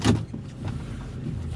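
An old car named George idling and running as it is taken out for a short drive, a steady low engine rumble with a brief louder thump at the start and no talk.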